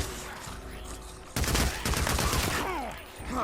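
Gunfire in the video game Days Gone at close range: a dense burst of rapid shots erupts after a quieter stretch, loud and continuous, with a few trailing sweeps and rattles.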